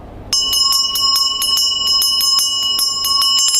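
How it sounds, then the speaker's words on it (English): A traditional ritual hand bell rings steadily and rapidly, its bright metallic tone sustained and shimmering close by, with no voices. "So when the bell rings, it blesses everybody."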